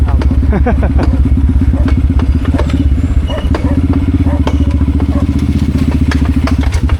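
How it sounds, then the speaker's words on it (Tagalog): Loud, close motorcycle engine chugging steadily at idle, with rhythmic rattling and occasional clatter throughout. "ba't may tumutunog na sa motor mo?"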